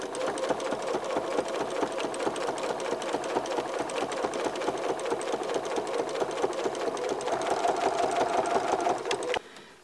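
A sewing machine hums steadily through a long, even run of rapid stitching on a quilted cookie project, close and fairly loud, stopping abruptly at the end; no talking.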